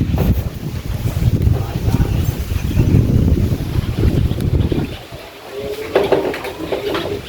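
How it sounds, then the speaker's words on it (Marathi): Strong wind gusts roar at the back of a house on a Konkan trip, lifting metal roof sheets, a loud continuous rushing that eases briefly before picking up again, with faint rattling. "पत्रे पूर्ण उडत आहे बघा हवेने. हवा जास्त आहे."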